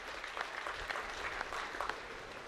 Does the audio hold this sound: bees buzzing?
no